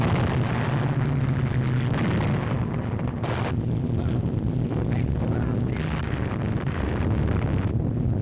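A heavy, continuous roar of explosions from an RAF bombing raid on a target in occupied France during the Second World War, loud and dense with rumbling bursts and wind-like noise throughout.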